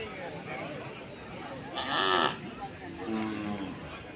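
Cattle at a busy native cattle market in Pazhayakottai, with one clear moo rising above a crowded background of murmuring voices and a second fainter low call shortly after, while people talk nearby.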